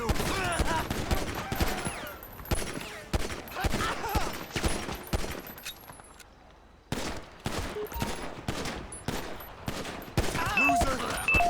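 Sustained heavy gunfire in the police mod for GTA V, with dense rapid bursts of shots and a brief lull before another long barrage.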